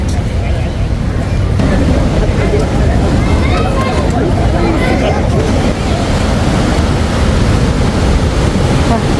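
Ocean waves crash and roll continuously at Mughsail Beach in Salalah, Oman, during the khareef season, loud and close, with wind buffeting the microphone and voices murmuring underneath.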